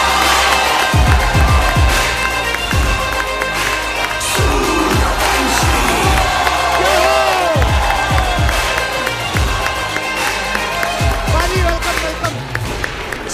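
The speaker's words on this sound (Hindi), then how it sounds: "आप सबकी जोरदार तालियों के बीच में स्वागत करना चाहूंगा" A studio audience of a comedy talk show applauds and cheers loudly to welcome Bollywood star Akshay Kumar, a dense, continuous roar of clapping and shouts that holds steady throughout.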